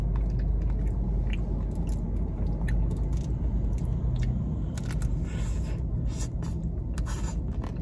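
Ice cream being eaten close up, with steady soft chewing, biting and crunching sounds over a constant low rumble of background noise, no talking.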